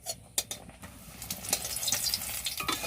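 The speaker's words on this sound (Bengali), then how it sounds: "দেখো বেগুনটা সুন্দর করে ভাজা হয়ে গেছে" Eggplant slices frying in hot oil in a home kitchen, a steady soft sizzle with occasional crackles and stirring clicks, close by and alone with no talking.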